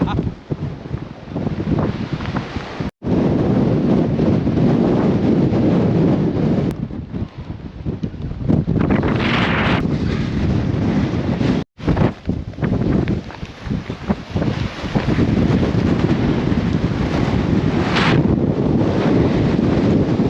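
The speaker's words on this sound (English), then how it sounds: "I can tell you, it's blowing a hoolie." Extreme wind roaring across an exposed summit, loud and continuous with gusty surges and buffeting of the microphone throughout, broken by two brief dropouts.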